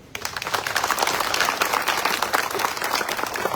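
Audience at a Vadodara public meeting of a new civic organization claps steadily, a dense burst of applause filling the whole stretch at moderate loudness with no talk over it.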